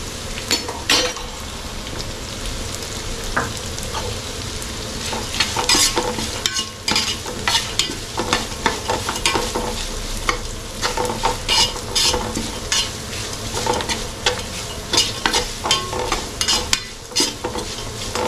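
Small onions and shallots sizzle steadily in a pan for a Malabar trevally head curry, with frequent scraping, clattering stirs of a spoon throughout.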